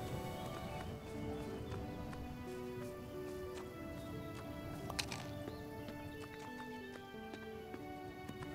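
Horse hooves clip-clop at a steady trot in the farming game Everdream Valley, quiet and even under a bed of soft background music, with no one talking.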